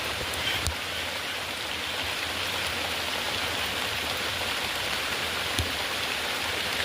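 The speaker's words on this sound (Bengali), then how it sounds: "এইভাবে ওভারফ্লো জলটা আস্তে আস্তে করে একটু যত ওখানে বেশি হবে আস্তে আস্তে করে এখানে জলটা বেরিয়ে যাবে" Overflow water from a fish tank draining away, a continuous soft rushing trickle like light rain, steady and close with a couple of faint knocks, no talking.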